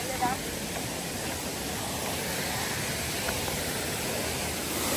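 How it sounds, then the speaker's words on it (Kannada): Abbi Falls in the hills near Sakleshpura roars as a steady, dense rush of falling water, loud and unbroken throughout. "ನೋಡಿ ಅಬ್ಬಿ ಫಾಲ್ಸಿಗೆ ಬಂದಿದ್ದೀವಿ"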